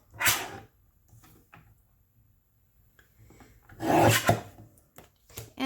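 Two separate rasping scrapes come from trimming the edges of a Halloween oracle card deck, one at the start and a longer one later, with faint rustling in between.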